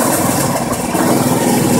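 A small homemade generator engine, running with its intake filter removed, chugs at a steady idle nearby, a loud and continuous rough throb with no voices.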